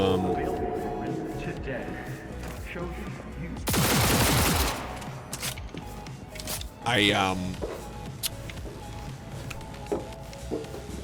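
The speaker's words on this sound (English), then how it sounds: "I literally can't shoot Alex" Gunfire from the video game Cyberpunk 2077 comes in a short burst of rapid shots mid-clip, followed by scattered game sound effects, while a player talks throughout.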